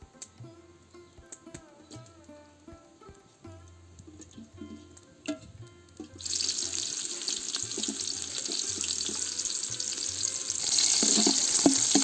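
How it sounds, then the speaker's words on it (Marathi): Onions hit hot oil in a pot while cooking chicken biryani. After six seconds of quiet clinks and handling, a loud, dense sizzle erupts and keeps building to the end. "आता तेल टाकले टोपात कांदो भाजून घेतोय आहे"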